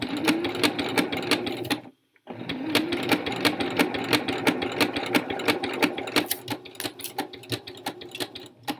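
Sewing machine stitching a seam on a Florence boxy tee, a steady fast mechanical chatter of needle strokes, close and clear, with one brief stop near the start before it runs on.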